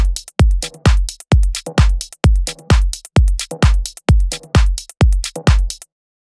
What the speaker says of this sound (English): It's in a pack about progressive trance. So it's a slow loop. There's kick, drums, and a percussion.